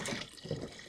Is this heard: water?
yes